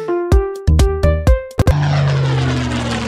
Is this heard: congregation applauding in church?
no